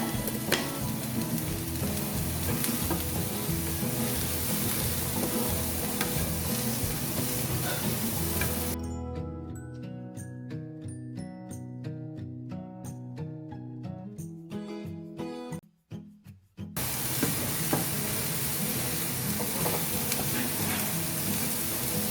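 Ingredients for chicken lasagne sautéing in a pan, a dense continuous hiss and sizzle with faint stirring, interrupted midway by a stretch of music before the frying resumes, no speech.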